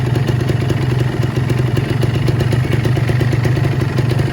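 A green 2015 Kawasaki Ninja R two-stroke motorcycle engine runs steadily and loudly up close, a continuous buzzing drone with rapid clattering pulses held at a constant pitch rather than a clear rising rev.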